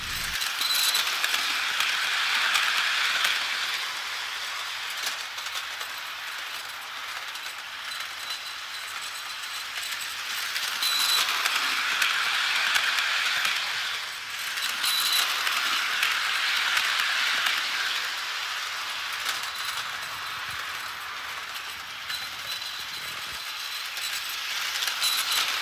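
A Hogwarts Express model train runs on a garage floor, giving a steady mechanical whirr and clatter of small wheels and gears that swells and eases in waves for about 25 seconds, with no talking.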